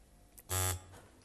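A single loud electronic quiz show buzzer blares for about a quarter second, sharp and close, in an otherwise quiet room.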